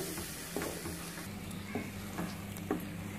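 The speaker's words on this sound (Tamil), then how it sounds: "இப்போ நல்லா வதங்கிக்கிட்டு இருக்குது" Banana halwa mixture of mashed banana in ghee sautés over medium heat with a steady, soft sizzle, broken by a few scraping strokes of a spoon stirring the pan, close and alone.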